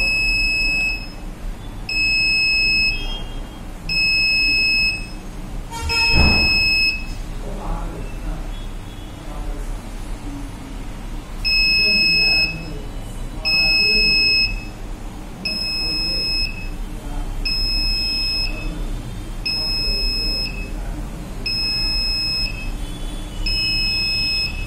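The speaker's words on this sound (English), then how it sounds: "So that is the indication of 1 second LED and buzzer indication." Buzzer on a Raspberry Pi IoT notice board sounding repeated shrill electronic beeps in regular bursts of about a second, loud and close, with quiet background noise between them.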